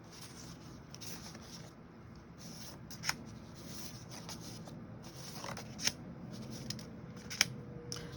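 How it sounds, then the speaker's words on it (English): Scissors snip stickers out of a sticker pad page at a craft table, a few soft scattered cuts with faint paper rustling over a low steady background hum, no talking. "I also cut out some stickers from the sticker pad, the sticker page"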